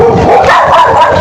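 A dog barks loudly and close up in a short burst of rough, repeated barks.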